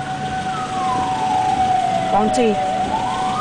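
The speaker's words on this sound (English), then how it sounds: "There is, yes, ambulance 911." An emergency vehicle siren playing from a video, its wailing tone sweeping down and back up at moderate loudness over background noise, with a voice speaking briefly.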